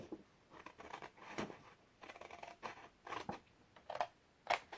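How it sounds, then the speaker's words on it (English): Scissors snip through paper along a score line in a series of soft, close cuts, several short crisp bursts spaced irregularly and louder toward the end, with no talking. "I'm gonna grab my scissors and I'm gonna cut."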